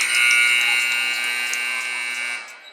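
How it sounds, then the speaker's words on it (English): At a girls' varsity high school basketball game, the scorekeeper's electronic buzzer ending the first quarter blares as one long, loud, steady tone for nearly three seconds before cutting off abruptly. "I think the scorekeeper was a little heavy on the buzzer there."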